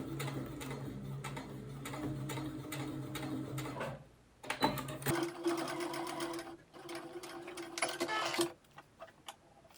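A sewing machine stitches a zippered AirPods case in quick rhythmic bursts of mechanical clatter, pausing briefly between runs, close up and fairly quiet.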